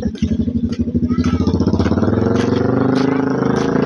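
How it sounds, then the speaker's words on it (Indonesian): A motorcycle engine close by on a road, its rapid pulsing exhaust loud and rising in pitch as it revs and moves past, with a voice speaking faintly underneath. "Ih, motornya bagus guys"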